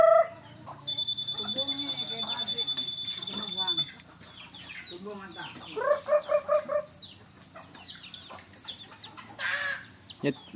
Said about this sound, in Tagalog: Yan ang mga manok.